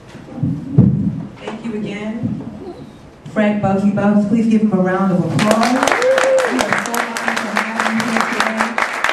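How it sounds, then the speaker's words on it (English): Audience applause for Fred Bugsy Bugs at a tribute event: a voice speaks first, then a crowd's rapid, crackling clapping rises and carries on steadily with the voice continuing over it. "Please give him a round of applause."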